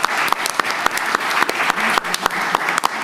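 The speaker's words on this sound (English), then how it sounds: "Let's give a round of applause to our panel." Dense, steady applause from a seated audience at a community mental health panel event, many hands clapping close together with sharp individual claps standing out for about three seconds.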